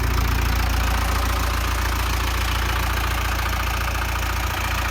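A Mahindra jeep engine runs steadily at idle, a constant low rumble with a faint high whine above it, close and loud with no talking.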